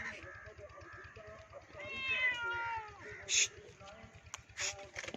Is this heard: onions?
no